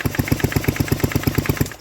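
Vintage Sears Craftsman High Performance chainsaw engine, just reassembled, pulsing in a fast, even, throbbing rhythm, loud and close with no talking.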